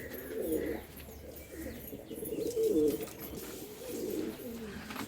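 Domestic pigeons cooing in a home cage, soft repeated throaty coos in several rolling phrases close by, steady and unhurried with no talking.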